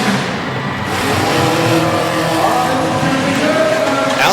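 A tough truck roars hard through a tight dirt-track chicane in Harrisburg, Pennsylvania, its engine loud and continuous with a rising note and dirt spraying against the wall.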